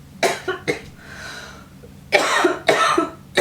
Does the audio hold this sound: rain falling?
no